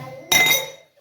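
Garlic is pounded for Rajasthani dal-baati with a single sharp, ringing clink of a hard strike, loud and close, fading over about half a second.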